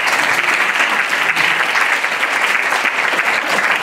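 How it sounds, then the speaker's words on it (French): A packed hall applauds at an awards ceremony for digital-industry trophies, the clapping dense, loud and steady throughout with no voices breaking through. "Et la salle en délire vous applaudit."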